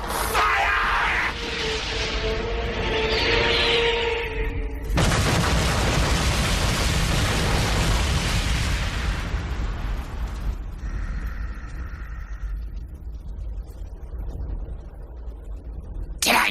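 Anime battle in which a bio-armored fighter fires a volley of projectiles: a burst of shots, then sustained roaring explosions and rumbling blasts lasting several seconds before fading into quieter effects.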